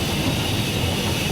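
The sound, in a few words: steam locomotive train rolling on after regulator shut off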